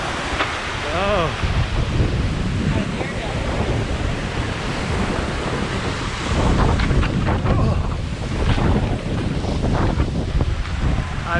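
Fresh spring water rushes steadily at the Bridal Veil Falls waterfall, a loud, continuous roar mixed with gusts of wind buffeting the microphone.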